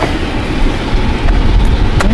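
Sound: tow truck PTO engaging

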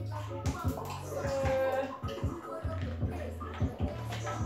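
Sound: pouring lemon juice into a measuring cup

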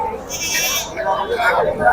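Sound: goats bleating at market

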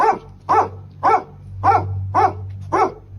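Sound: dog barking

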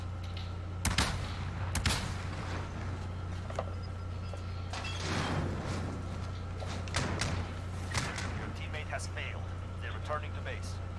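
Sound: shotgun fire in video game Call of Duty Warzone

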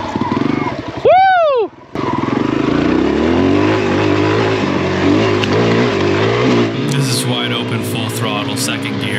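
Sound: vehicle engine accelerating hard, testing traction

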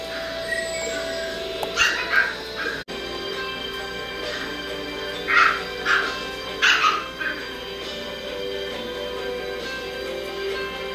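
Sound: dog growling

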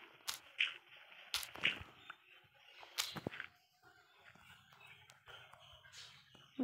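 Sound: digging in Minecraft video game

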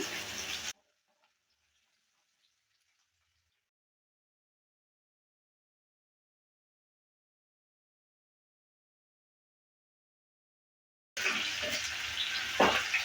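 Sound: potatoes being stirred and fried in a pan

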